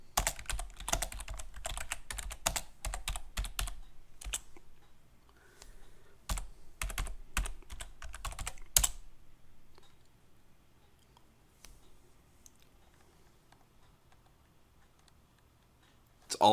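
A terminal command is typed on a computer keyboard in quick bursts of close, crisp key clicks. A few scattered taps follow, then near quiet.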